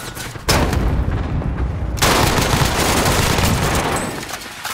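Heavy gunfire is aimed at the player in a video game, loud bursts and a sustained, dense barrage after a short lull, close and alone without talk.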